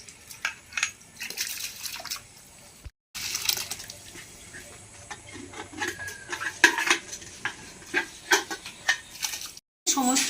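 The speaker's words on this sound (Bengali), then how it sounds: "জল ফুটছে, জলের মধ্যে এবার আমি ফ্রাইড রাইসের চালটা দিয়ে দিচ্ছি।" Rice for fried rice is poured into a pot of boiling water in a home kitchen, giving soft rattling, splashing and clinking bursts at close range amid quiet bubbling.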